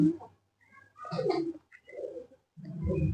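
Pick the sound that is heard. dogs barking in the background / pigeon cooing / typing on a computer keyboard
pigeon cooing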